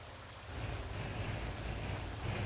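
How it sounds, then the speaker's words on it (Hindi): Heavy rain while driving a Ford F-Max truck in Euro Truck Simulator 2, a dense steady hiss of falling water that swells slightly after the first half-second, with a low rumble beneath. "ऊपर से बारिश है।"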